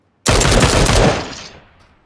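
Gunfire in the battle royale game PUBG: a sudden loud burst of rapid automatic shots that cuts in abruptly, holds for about a second, then fades into a trailing echo.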